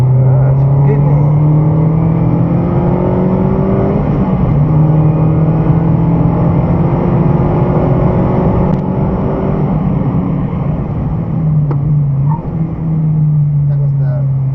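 A car laps a race track at Broadford at pace, its engine droning loud and close with rising and falling revs as it accelerates and shifts gears, and engine and wind noise fill the whole stretch.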